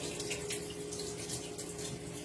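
Tap water runs steadily into a kitchen sink as food is rinsed beneath it, a constant close hiss and splash with no pauses.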